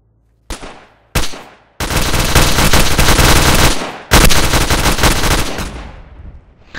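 Volleys of rifle fire from a firing squad: two sharp separate shots, then a long loud sustained burst of gunfire, a brief gap, and another long burst that fades into reverberation.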